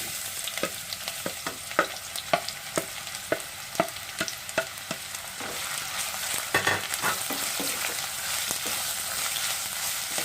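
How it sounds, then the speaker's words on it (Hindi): Onions fry in hot oil inside a pressure cooker, with a constant crackling sizzle and a regular series of sharp scraping clicks as a spoon stirs them. The first half is steady, and the stirring loosens later. "ऑयल गर्म हो गया, इसके अंदर प्याज ऐड कर लेंगे।"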